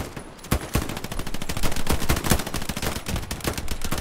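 Machine gun covering fire in the Hell Let Loose video game during an Omaha Beach simulation event: loud, sustained rapid bursts of automatic fire with overlapping shots, continuing densely throughout without pause.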